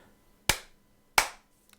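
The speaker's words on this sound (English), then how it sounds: "You get 2 claps, because it took you too long, Hillary." Two sharp hand claps, close and distinct, spaced under a second apart against near silence.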